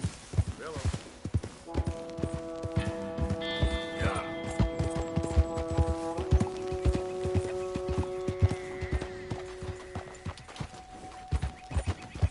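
Rhythmic horse hoof clip-clops tap steadily through a scene in Red Dead Redemption 2, joined by a horse's whinny and layered game music tones.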